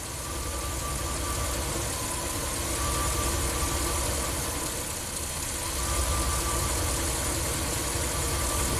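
A Ram camper van's engine idles roughly after a hot soak, a close, steady rumble with uneven vibration that sags as if about to stall, with no talking.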